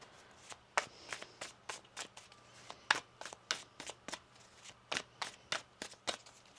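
Crisp, rapid riffling of a deck of tarot cards being shuffled, a run of sharp flicking bursts close by with no talking.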